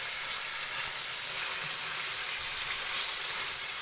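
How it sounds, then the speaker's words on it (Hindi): Chicken pieces fry in a pan with a steady, continuous sizzle of hot oil. The sizzle stays even and moderately quiet throughout, with no voices over it. "मैंने यहाँ पर अपना ये चिकन रख दिया है फ्राई होने"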